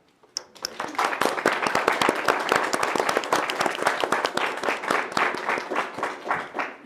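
After a brief quiet start, applause breaks out at a county board of supervisors meeting, with many distinct claps forming a lively, fairly close burst that gradually thins toward the end.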